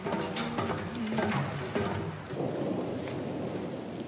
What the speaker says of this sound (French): Dans l'après-midi, le temps tourne à l'orage.